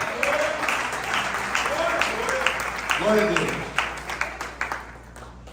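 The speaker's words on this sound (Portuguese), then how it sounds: "E você já aplaude ele." Church congregation clapping during a family worship service, a crowd of hands under a voice speaking and exclaiming, the clapping thinning into scattered individual claps near the end.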